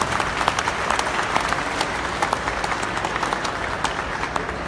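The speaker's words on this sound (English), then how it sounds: "I'd like you all to applaud John with his wonderful work in bringing these awards to" Audience clapping at the 2017 Motorclassica awards ceremony, a sustained round of many hands applauding at an even level.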